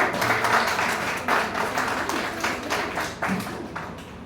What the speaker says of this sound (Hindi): अगर गुड़िया प्यारी लग रही है तो जोरदार तालियां हो जाए।